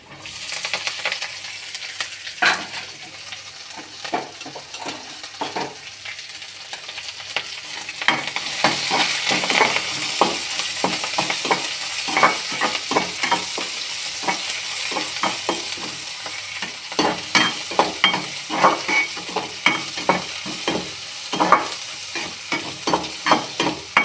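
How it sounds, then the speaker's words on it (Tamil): Onions sizzling in hot oil in a pan for idli upma, with green chillies and chana dal already added, under a steady frying hiss and repeated scraping strokes of a spoon stirring, growing livelier toward the end. "அடுத்து வெங்காயம் கொட்டிக்கலாம்"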